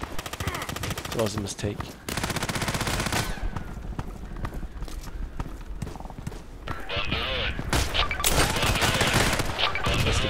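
KelTec RFB rifle gunfire in the video game Contract Wars comes in rapid bursts and dense volleys, loud and close, broken by short pauses, with someone talking briefly over the shooting.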